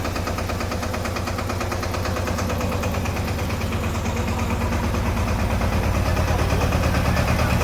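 A tractor engine runs steadily at low revs driving a tractor-mounted spray pump, a continuous close chugging drone with a rapid mechanical throb and no pauses.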